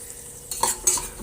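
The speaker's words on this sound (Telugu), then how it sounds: "నెయ్యి అనేది కాగాలి కాగాక డ్రై ఫ్రూట్స్ అని వేపుదాం" Dry fruits fry in heated ghee for a moong dal milk kheer, giving a short, close sizzle broken by a couple of sharp stirring and spoon scrapes over about a second.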